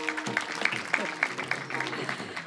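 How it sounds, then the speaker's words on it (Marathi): An audience claps after a kirtan at a devotional gathering, a short burst of scattered claps at moderate distance, mixed with voices. "त्यांच्यासाठी जोरात टाळ्या वाजवा"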